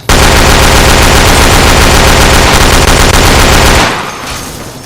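Video game gunfire roars in a dense, loud automatic burst of rapid shots that fades out near the end, with no talking over it.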